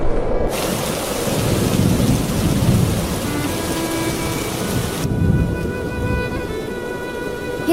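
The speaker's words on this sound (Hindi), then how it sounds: "हे भगवान, बारिश होने लगी।" Steady rain pours down with rumbles of thunder in a cartoon storm scene, a dense, continuous wash of loud rainfall that carries on without a break.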